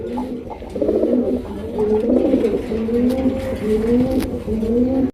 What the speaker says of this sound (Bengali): অরিজিনাল ইন্ডিয়ান বোম্বাই কবুতর জুটি দেখেন ডাকের স্টাইলটা দেখেন